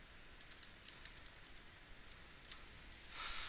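Someone types on a computer keyboard, entering a spreadsheet formula: a quick run of light, irregular clicks over faint background hiss, ending in a slightly louder burst of keystrokes.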